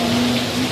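Heavy rain pours steadily in Faisalabad, Pakistan, a dense, close hiss of drops on surfaces with no voices, a faint low hum running beneath it.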